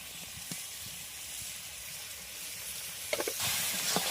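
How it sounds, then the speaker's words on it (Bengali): Onions fry in hot oil left from frying prawns, for a prawn malaikari, giving off a steady bright sizzle with a few sharp crackles and spits near the end. "এইবার এই চিংড়ি মাছের ভাজা তেলে পেঁয়াজ দেওয়া হচ্ছে পেঁয়াজটাকে ভেজে নেওয়া হবে"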